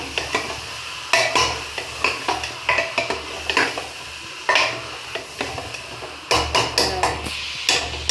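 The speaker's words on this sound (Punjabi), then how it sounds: "ਗੋਭੀ ਤੇ ਆਲੂ ਦੀ ਸਬਜ਼ੀ ਪਾਤੀ ਹੁਣ ਇਸ ਨੂੰ ਹਿਲਾ ਦਿਓ" Potato and cauliflower curry stirred in a pot, a spoon repeatedly scraping and clanking against the metal in an uneven rhythm over a soft sizzle, close and without speech.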